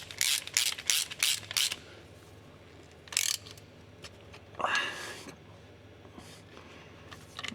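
Hand ratchet clicking in quick bursts while bolting the yoke and parking brake back onto the transmission of a 1953 Mack A40 truck, with a few short pauses and a louder clunk or slide of metal midway through.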